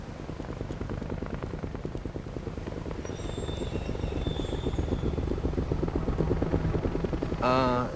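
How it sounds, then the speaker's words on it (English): A helicopter drones steadily with a rhythmic low rotor thump from a distance, heard outdoors near a campsite while people speak over it intermittently. "Is that a helicopter?"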